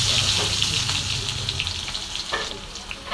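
Garlic frying in hot oil with mustard seeds and cumin for a tondli (ivy gourd) vegetable dish, a steady close sizzle with brief stirring scrapes, no talking.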